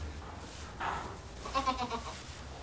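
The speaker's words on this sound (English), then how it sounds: "A kid, a baby goat, isn't it?" A baby goat, a young kid, gives a couple of bleats, first a short cry then a longer wavering one, close and clear over quiet farm background.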